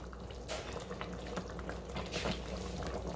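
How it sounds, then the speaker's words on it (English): Lamb gravy simmers uncovered in a pot on a saute setting, giving a steady low bubbling hiss with scattered small pops and gurgles, close and continuous throughout. "I'm just gonna let this sit on saute for a few minutes."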